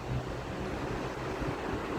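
Calm sea at a port area in Ventimiglia, Italy, a soft continuous wash of gentle waves mixed with light wind rumble, steady and unbroken.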